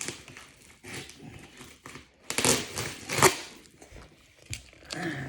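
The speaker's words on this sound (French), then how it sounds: "Je vais me battre avec le scotch." Crinkling, tearing adhesive tape being pulled and wrestled with, close up, in irregular bursts with a couple of sharper rips.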